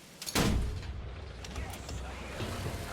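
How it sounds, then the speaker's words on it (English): A BT7 tank fires a single cannon shot in War Thunder, a loud, sharp blast that rings out and trails into rumbling battlefield noise and engine drone. "this guy fires a shot"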